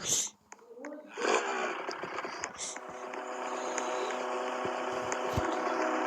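A motor hums steadily and grows louder, settling into an even drone through the second half, while people talk close by.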